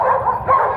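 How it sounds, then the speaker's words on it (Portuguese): A Belgian Malinois army working dog gives a few quick, close yipping barks in two short bursts, loud and alone. "também um pastor belga malinois, é um dos mais eficientes colaboradores do Exército no Paraná"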